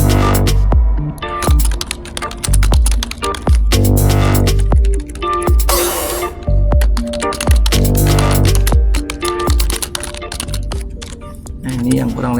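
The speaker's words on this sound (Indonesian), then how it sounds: "Lalu saya akan mengetikkan beberapa contoh nama." Fast, steady typing on a computer keyboard, close and loud, with dense clattering keystrokes continuing throughout over a low background hum.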